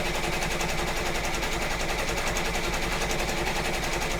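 An embroidery machine stitches zigzags at full speed, a steady fast mechanical rattle of needle strokes, loud and close, running evenly throughout with no talk.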